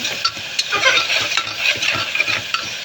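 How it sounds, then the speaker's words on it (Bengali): Bhuna khichuri being stirred and sautéed in a pan, with quick, busy scraping and light clatter of a utensil over a soft frying hiss, close by and without speech. "সেটা নিয়ে হচ্ছে ভালো করে কিছুক্ষণ নাড়াচাড়া দিয়ে কষিয়ে নেব"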